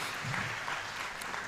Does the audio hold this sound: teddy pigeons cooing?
no